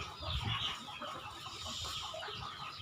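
Chickens clucking at a farm pond, several soft, close clucks over a quiet outdoor background.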